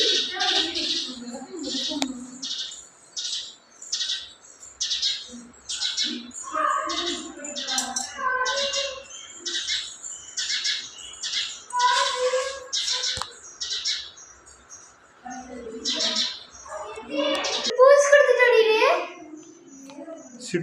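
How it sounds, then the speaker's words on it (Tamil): A sparrow that has strayed indoors chirps in quick repeated tweets throughout, close and clear, with a person speaking softly at times. "சிட்டுக்குருவி எப்படி வழி தெரியாமல் உள்ளே வந்துட்டியா?"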